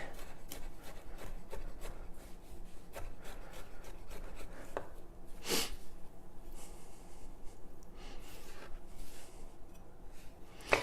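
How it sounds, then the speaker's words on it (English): Knife chopping garlic cloves roughly on a cutting board, a quick rapid run of close, dry taps and scrapes with an uneven rhythm, heard alone without talk. "we're just going to go ahead and do a nice, quick, rough chop on this garlic"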